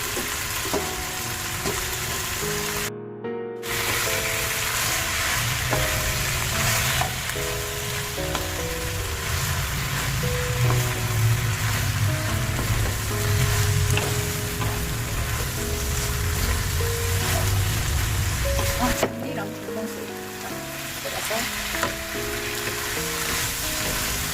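Spicy pork stir-fries with green onion and bok choy in a hot pan, a loud, steady sizzle with stirring and scraping throughout, briefly dropping out once and shifting as ingredients are added.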